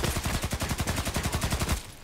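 Automatic gunfire in the video game Contract Wars: a rapid, even burst of about twenty loud shots rattles for nearly two seconds, then stops abruptly.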